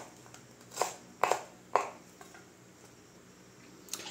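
A knife dices onions on a cutting board, giving three or four sharp, close chops spaced unevenly over a few seconds, with quiet pauses between them.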